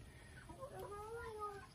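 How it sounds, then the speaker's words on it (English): Newly arrived chickens cluck quietly in a short, faint burst of rising calls with low background noise. "We got some brand new chickens yesterday"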